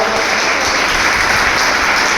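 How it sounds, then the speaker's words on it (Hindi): Loud, dense applause from a large gathering honouring its own good work, a continuous roar of many hands clapping with no pauses. "आप अपने लिए भी जोरदार तालियां बजा लीजिए कि आपने बहुत अच्छा कार्य किया"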